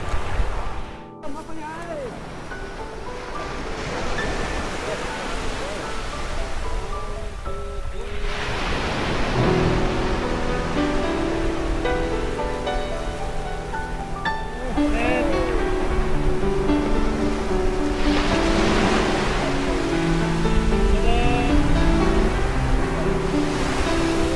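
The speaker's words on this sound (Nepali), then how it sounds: "वाह यति ठुलो छाल आइरहेछ" Big evening ocean waves break on the shore at Korea's End of Land, a steady surf roar that swells into louder crashes, with voices and some tonal sound over it.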